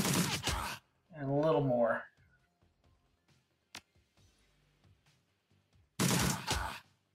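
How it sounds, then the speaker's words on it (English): Uzi gunfire in the video game Shadowrun Returns, two loud bursts of rapid shots, one at the very start and one near the end, with someone talking between them and a quiet stretch with a faint click. "That is the biggest Uzi I've ever seen in my life"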